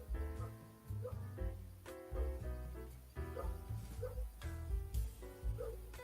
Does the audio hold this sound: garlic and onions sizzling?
no